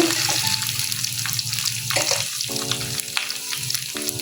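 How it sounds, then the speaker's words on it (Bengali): Two bay leaves frying in hot oil in a village kitchen, a close steady sizzle with stirring scrapes and a few clear tonal rings of metal cookware. "দুইটা তেজপাতা দিয়ে দেবো একটু ভালো করে ভাজবো"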